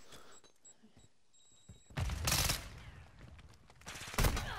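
Gunfire in a Modern Warfare 2 gunfight, pistols being fired, with two loud bursts of shots after a quiet stretch of faint game noise, no voices.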